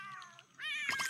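A pet cat named Willow gives a short, drawn-out meow that rises into a second whining cry, close and clear, heard alone in a quiet room.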